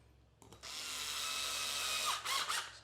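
Power drill driving small screws through an L-shaped bracket into an Ikea Pax wardrobe upright, a steady loud whir lasting about a second and a half, then a couple of short bursts as the screw seats.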